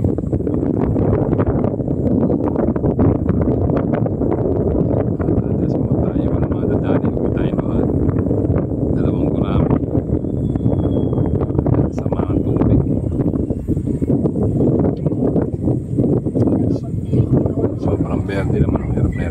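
Steady, heavy wind buffets the microphone throughout, a loud low roar that masks most other sound, with faint voices now and then.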